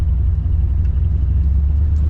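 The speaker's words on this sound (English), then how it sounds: "This truck has a great rumble to it." A 1969 Chevrolet C10 pickup's deep, steady engine rumble idles close by, low and throaty with an even, continuous drone and no voices.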